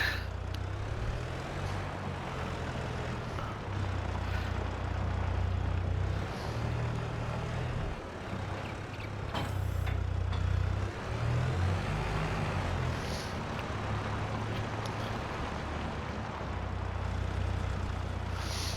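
A farm tractor engine in Farming Simulator 22 runs with a steady low rumble, holding its drone continuously throughout with no talk.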